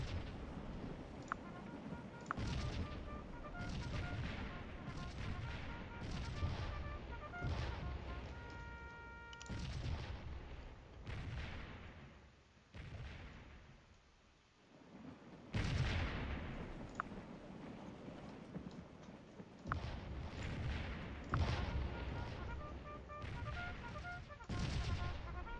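Artillery fire in the Scourge of War strategy game at the Battle of Stones River, repeated booming cannon blasts and crackling volleys across the whole stretch, with a brief lull midway, no speech.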